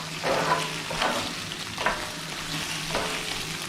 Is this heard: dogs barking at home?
no